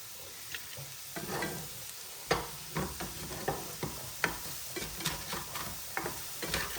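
Pieces of firm tofu sprinkled with a pinch of salt fry in a pan, giving a steady close sizzle broken by irregular stirring clacks and scrapes, with no voices.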